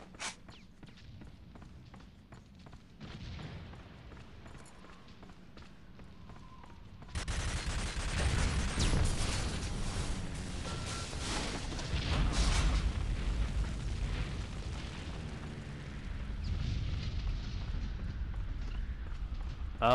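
Grenade blasts and battle noise in the World War Heroes shooter, quiet at first, then a loud, sustained rumble of explosions and gunfire from about seven seconds on.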